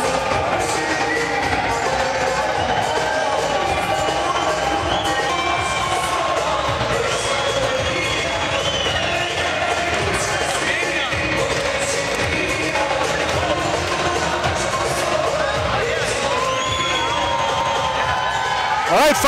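A standing crowd of about 3,000 at an MMA event in Michigan cheers, shouts and whoops in a steady, loud roar that fills the whole stretch without letting up.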